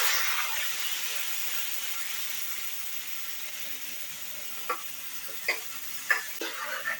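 Ground spice paste mixed with turmeric hits a hot garlic tempering with a broad, hissing sizzle that slowly settles, followed near the end by a few sharp clatters of stirring against the pan, with no speech.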